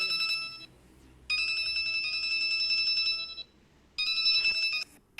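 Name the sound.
phone ringtone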